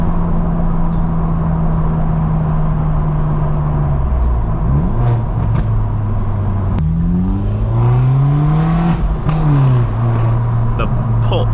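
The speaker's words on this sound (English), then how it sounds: "The pops between gear changes as well." A loud BMW 1 Series exhaust revving through gear changes on a quiet neighbourhood road, engine note rising and dropping several times with sharp pops and crackles between shifts, heard from inside the car.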